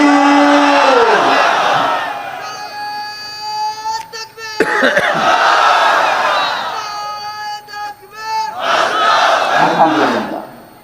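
A large crowd at an Islamic sermon roars the takbir in unison, repeated loud chanted shouts in waves with short pauses between them, massed voices filling the space.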